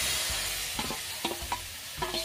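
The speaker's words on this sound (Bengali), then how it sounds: "এখন কিন্তু আমরা এই কড়াইতেই ভেজে নেব ধোকাটাকে।" Lentil cakes (dhoka) frying in oil in a wok, a steady close sizzle with several sharper crackles and spatters as the pieces are stirred, no voices.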